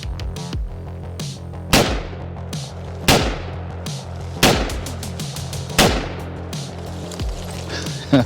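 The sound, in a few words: gunshots from a firearm at a shooting range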